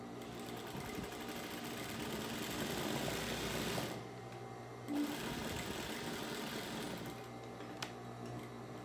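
Close, steady whirring of a sewing machine stitching fabric for a rag doll, running for several seconds, briefly stopping, then resuming alone.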